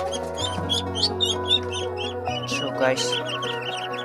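Several ducklings peep in quick, high, repeated chirps close by, heard under and between a man's speech.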